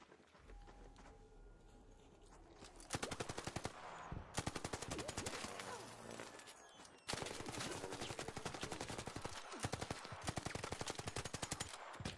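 Automatic gunfire in a video game shooter: after a quiet start, loud rapid bursts of shots rattle on almost continuously, broken by a brief pause midway.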